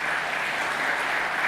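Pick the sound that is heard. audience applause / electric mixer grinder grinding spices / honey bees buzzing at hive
audience applause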